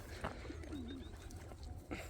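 Pigeons cooing softly amid a dense, steady wash of bird noise, with a few faint chirps above the low murmur.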